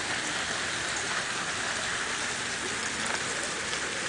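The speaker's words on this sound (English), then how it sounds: "First burning hot and now rain at the end of the work week." Rain falls steadily outdoors on a day that had been hot, a dense, even hiss of drops on surfaces at constant loudness throughout, with no voices.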